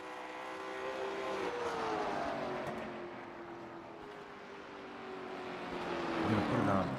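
Engine of a race car in a racing video game at USA International Speedway, a steady high revving whine with shifting harmonics as it powers out of turn 4, rising again toward the end.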